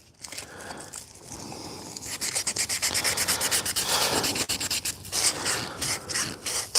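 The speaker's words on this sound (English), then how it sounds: "all the corners kind of rounded out and softened out with a heavy grit sandpaper" Wooden Avro model corners being rounded and softened by hand with heavy grit sandpaper, a close, steady rhythmic rasping of rubbing strokes that grows louder and continues without talk.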